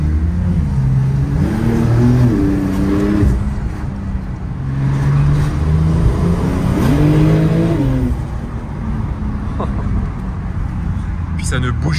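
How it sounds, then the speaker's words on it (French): A Porsche Turbo accelerating hard, its engine note climbing in repeated rising sweeps between gear changes, loud and close throughout with a voice talking over it. "Alors vraiment, ça accélère presque aussi fort qu'une Bugatti."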